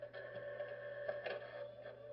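A printer in the horror video game Eyes whirs and hums steadily with a constant mechanical tone, faint and alone, with a slight clatter near the middle.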